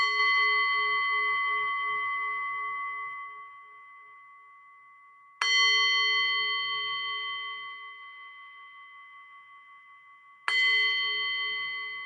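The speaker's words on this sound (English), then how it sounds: "And we're going to begin with 3 bells." Three meditation bells struck one after another about five seconds apart, each a clear bright ring with a long fading sustain, alone in quiet.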